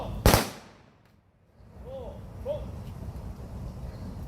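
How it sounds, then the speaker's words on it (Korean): An honor guard fires a ceremonial rifle volley at a memorial service at the national cemetery in Dongjak. It comes as one sharp, loud crack that fades into quiet outdoor air with a few faint bird chirps afterward. "조총 발사!"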